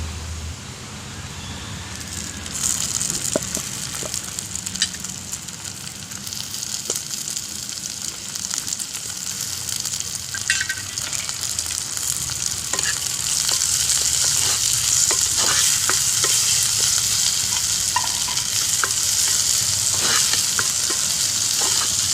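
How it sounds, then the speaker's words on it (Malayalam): A pan of prawn masala with tomato and green chilli sizzles and crackles steadily while a spoon stirs it, with scraping strokes and frying hiss growing louder over time. "മസാല ഒന്ന് കൂട്ടി ഇളക്കുക തക്കാളിയും പച്ചമുളകും ഇടുകയാണ്"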